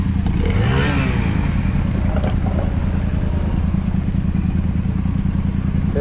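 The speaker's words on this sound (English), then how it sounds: "Start your bike up." A motorbike engine runs close by, a steady low chugging idle with a brief rising whir near the start, loud and continuous, no talk.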